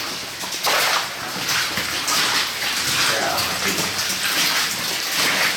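Water splashing and sloshing steadily as someone wades through Sheep Creek near the Nugget/Reno complex, a continuous close rushing wash with no talk.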